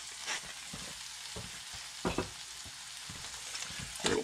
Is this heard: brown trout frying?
yes